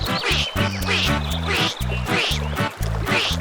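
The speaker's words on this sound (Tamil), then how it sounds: "அப்போது அம்மா வாத்தின் அடியிலிருந்து வரட்டு குவாக் சத்தம் கேட்டது." A cartoon duck in a Tamil children's story quacks about five times in a steady rhythm, each quack loud, close and nasal, with short gaps between.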